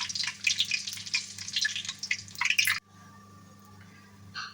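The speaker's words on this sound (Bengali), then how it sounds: "সর্ষের তেলটা সুন্দরভাবে গরম হয়ে গেছে পাঁচ ফোড়ন তেজপাতা শুকনো লঙ্কা আর এই গোটা গরম মশলা এলাচ লবঙ্গ দারচিনি এর সাথে ফোড়নটা দিয়ে দিলাম" Whole spices, five-spice seeds, bay leaf, dried chilli, cardamom, cloves and cinnamon, crackle and spit loudly in hot mustard oil for a few seconds, then cut off to a faint low hiss with a brief flare at the end.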